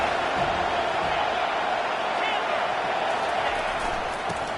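A college football stadium crowd roars steadily as the home defense digs in near the red zone, a thick continuous mass of cheering voices with scattered whoops and claps, slightly easing toward the end.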